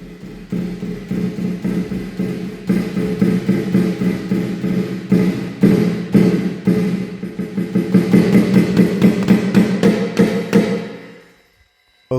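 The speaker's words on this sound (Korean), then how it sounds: "먼저 스네부터 한번 테스트 해드릴게요." Snare pad of a Roland TD-316 or EFnote 3X electronic drum kit struck repeatedly, starting with light, scattered taps and building into a dense, rapid roll before stopping abruptly; close and fairly loud, with no talking.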